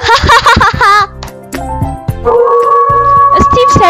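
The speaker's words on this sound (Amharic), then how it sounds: "ስቲቭ ሲያጨበጭብለትም የበለጠ የጮኸ ቀጠለ" A wolf in an animated story barking and howling, with several sharp barks at the start followed by drawn-out tonal howls, loud and close, alongside a narrating voice.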